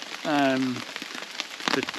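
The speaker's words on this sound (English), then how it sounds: "This rain is certainly giving it a run for its money" Rain drums steadily on a taut tarp at a riverside camp at night, a dense, close patter running throughout while a person's voice briefly sounds over it.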